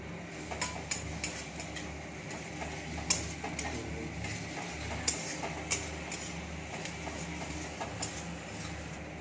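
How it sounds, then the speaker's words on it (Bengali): Garlic paste being stirred in a frying pan while cooking chicken, with soft steady sizzle and scattered light clicks and scrapes of a utensil against the pan, close and moderately quiet. "রসুনটা একটু নেড়ে নিয়ে"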